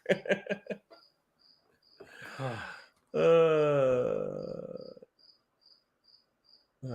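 A cricket chirps steadily from inside the wall of a room, its regular high pulses continuing through a breathy laugh and gasp-like vocal sounds and carrying on alone afterward.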